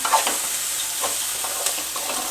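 Continuous sizzling and crackling of spices frying in hot oil, with faint stirring scrapes, close and steady throughout.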